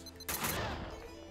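Sudden burst of gunfire in a Max Payne 2 mod, a loud sharp blast after a quiet moment that rings out and decays over about a second.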